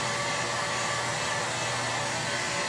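A heat gun blows a steady, loud, even roar of hot air while softening the lifting edge of ClearPlex protective film, with no pauses.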